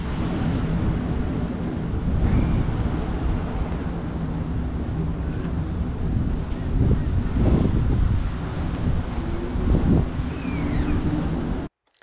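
Wind gusts at a Santa Barbara harbor, rumbling across the microphone in steady buffeting waves with stronger surges now and then, loud and close until it cuts off abruptly.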